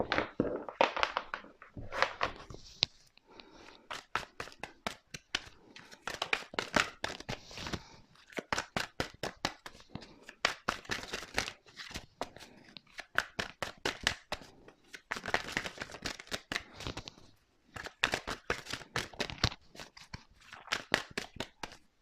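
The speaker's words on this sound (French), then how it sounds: "avec ce jeu-ci, maintenant, je vais tirer 7 cartes." Oracle cards being drawn and laid down one after another during a horoscope card reading, giving a steady run of close, crisp taps, flicks and soft slaps with short pauses between bursts.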